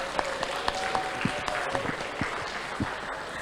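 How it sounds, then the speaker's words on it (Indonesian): Scattered, fairly quiet applause from an audience at an anti-corruption lecture, with individual claps popping out of a thin, steady wash of hands. "Tepuk tangan dulu dong."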